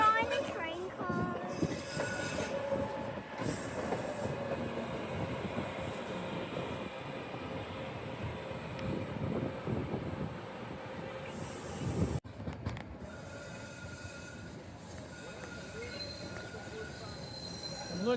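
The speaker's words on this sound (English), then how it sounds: "See, there goes a train on the elevated again." A Norristown High Speed Line train passes on an elevated track, a steady rumble of wheels and rail noise running throughout at moderate distance, then shifting abruptly near the end, with faint voices in the background.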